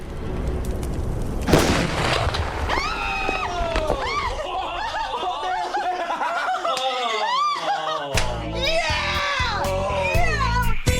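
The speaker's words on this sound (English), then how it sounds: "a whopper of an explosion" A fire extinguisher tank explodes beside a campfire, letting out a single loud boom early on, then a burst of laughter and excited voices that carries on to the end.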